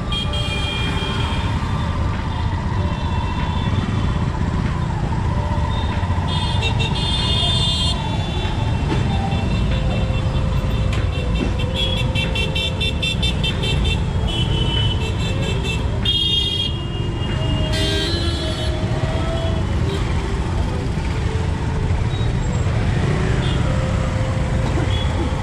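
Heavy Indian road traffic at a busy crossing, with engines idling and moving and repeated horn toots and honks scattered throughout, steady and fairly close.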